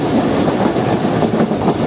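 A Jand Passenger train runs on rails through hilly country toward Attock, giving a loud, close, continuous rumble with steady clickety-clack from the wheels and no voices.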